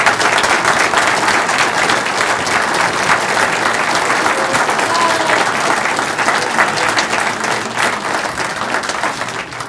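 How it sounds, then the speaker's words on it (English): Audience at an astronomy club meeting in Ottawa breaking into sustained applause, a dense, steady wash of clapping from many hands that holds at an even, fairly loud level throughout. "he can hear your applause if you'd like to give Mike special applause for the pictures that he took"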